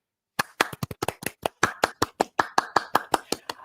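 A small group claps together at a live discussion show: about twenty crisp, fairly close claps in an uneven run that tightens into a steadier rhythm, with no voices over it.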